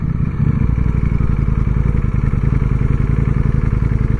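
A Ducati Panigale motorcycle engine rumbles steadily and loudly up close, a deep throbbing idle with a slight rev near the start.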